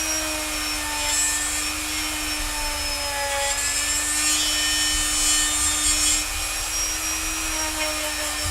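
Close, steady scraping and rubbing as excess material is scraped off a Deff Dread miniature, a continuous gritty texture over a constant low hum, with no talking.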